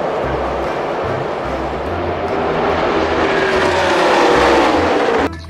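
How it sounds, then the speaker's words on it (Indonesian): Roaring race car engine tied to toy RC racing cars, a continuous loud rush that builds slightly in intensity before cutting off abruptly near the end. "di sini ada mobil balap."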